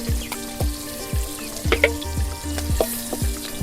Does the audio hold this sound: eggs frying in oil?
yes